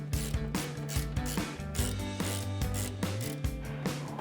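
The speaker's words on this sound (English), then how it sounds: "Grab a 14mm socket, or we're using a ratcheting wrench here," A ratcheting wrench clicks as it removes 14mm strut top nuts on a 2005-2023 Toyota Tacoma during a suspension lift install. Close, rhythmic metallic ratchet strokes repeat steadily, with no talking.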